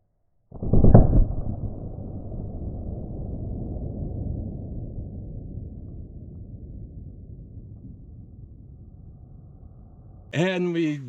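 A single 9mm full metal jacket flat point round fires close by in one sharp, loud crack near the start. A long rumbling noise follows, and a brief louder burst comes at the very end.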